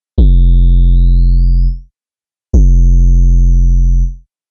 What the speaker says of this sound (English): Ableton stock effect is erosion, which allows you to layer either a customizable noise sample or a pitched sine wave, which produces a similar effect to downsampling.